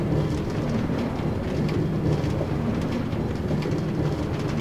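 Minecart in Minecraft Feed The Beast rattling continuously along rail track, a dense steady clattering rumble that stays loud and unbroken throughout, with no talking.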